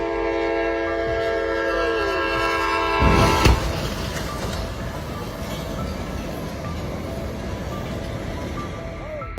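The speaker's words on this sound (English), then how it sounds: "A truck that got stuck and couldn't shift on the tracks caused a major collision with the train." Train bearing down on a truck stuck on a level crossing, horn blaring over heavy rail rumble, then a sharp impact followed by a loud, sustained roar of grinding and rattling metal as the train keeps moving.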